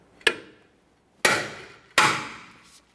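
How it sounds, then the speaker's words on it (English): Three sharp metallic hammer taps on a bit driver seated in a brake rotor screw of a 2010-2013 Kia Forte Koup, each strike ringing briefly and decaying, spaced about a second apart, close and isolated. "we're going to apply counterclockwise pressure and tap on it with a hammer"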